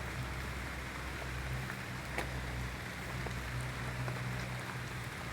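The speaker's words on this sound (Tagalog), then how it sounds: "Ulan na lakas nga ng ulan, oh." Steady heavy rain hisses on a surface, with a low constant rumble underneath and occasional sharper drops.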